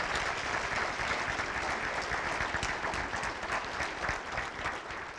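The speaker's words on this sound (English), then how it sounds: "Let's give him another big round of applause." A forum audience gives a big round of applause for a senator, with many hands clapping continuously and fairly loudly for several seconds before tapering slightly at the end.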